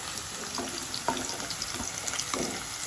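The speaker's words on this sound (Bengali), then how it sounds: "পেঁয়াজটা ভাজা হয়ে গেছে।" Onions frying in oil in a kadai, a steady close sizzle broken by a few soft stirring scrapes, with no talking.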